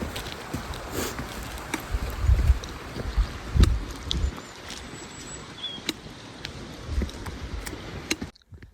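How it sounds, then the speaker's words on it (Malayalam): A cold mountain stream flows near Old Manali, its continuous rushing wash overlaid by low gusts of wind buffeting the microphone. "മലനിരകളിൽ നിന്നിങ്ങനെ ഒഴുകി വരുന്ന അടിപൊളി നാച്ചുറൽ ആയിട്ടുള്ള വെള്ളം"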